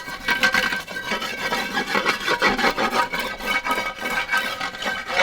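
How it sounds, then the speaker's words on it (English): A brick ground back and forth against a painted surface to scrape off loose, flaky paint, giving a steady close rasping rub that continues without pause. "I'll just take this here brick and just kind of grind some of the loose stuff off"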